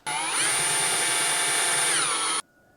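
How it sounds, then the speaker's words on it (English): A power drill bores a hole through a plastic hydroponic box, one loud steady whine lasting about two seconds before cutting off abruptly, followed by quiet. "and we'll drill the hole."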